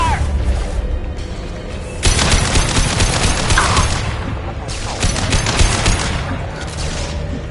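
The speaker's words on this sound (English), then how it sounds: "Engaging! Taking heavy fire!" Heavy gunfire in the video game Mass Effect 2 Legendary Edition, loud close volleys of rapid shots in repeated bursts with impacts, and a voice calling out over the shooting.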